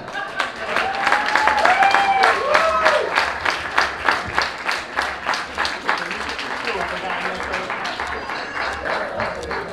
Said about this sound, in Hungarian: Egy nagy tapsot kérjek!